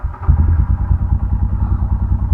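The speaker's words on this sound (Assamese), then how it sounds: "বাইকখন ষ্টাৰ্ট দিওঁ।" A motorcycle engine catches and settles into a loud, close, rapid low putter, thumping at an even idle rhythm after a brief ragged start.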